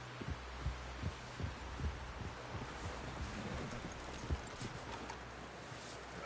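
Steady clip-clop of horse hooves in a regular walking rhythm, close by, over a low ambient hum, in the video game Red Dead Redemption 2.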